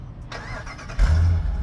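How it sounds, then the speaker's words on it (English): A 2021 Jeep Grand Cherokee L Overland's 5.7-litre Hemi V8, remote-started from the key fob, cranks briefly and then catches into a deep, loud rumble close by. "and the V8 Hemi comes to life"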